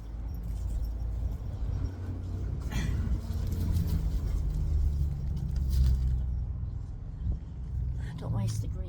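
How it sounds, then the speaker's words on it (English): A loud truck rolls past on a road beside a home vegetable garden where onions are being thinned, a heavy low rumble swelling and easing over several seconds with no talking. "You're gonna hear a loud truck going by here in a minute"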